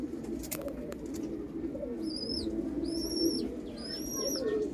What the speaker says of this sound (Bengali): দুটোই পায়রা দেখুন, পায়রা